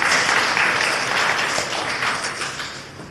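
Audience applause at a creation-versus-evolution debate, a dense, steady wash of many hands clapping throughout, fairly loud and fading slightly at the end.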